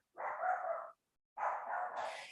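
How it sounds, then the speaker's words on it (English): A dog gives two drawn-out, throaty barks, each close to a second long, separated by a short silence. The barks are close and clear, with no talk. "if you can hear my dog barking"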